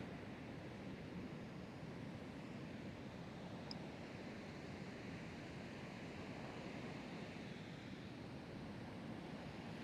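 Waves wash up onto a beach shore in a continuous soft, hissing surf wash, faint and steady with light wind noise and no voices.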